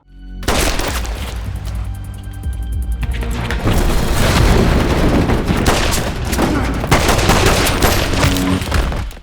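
A film shootout erupts into a dense, continuous barrage of gunfire mixed with booms and shattering debris, loud and sustained for several seconds with no clear gaps.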